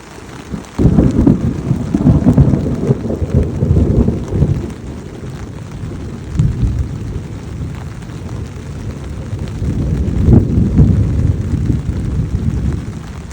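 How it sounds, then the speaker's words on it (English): Thunderstorm rolling in over a bushcraft camp in Georgia, heard from inside a tent: steady rain patters on the fabric while low rumbles of thunder swell and fade, with a loud burst near the start and another toward the end. "now the storm's coming in"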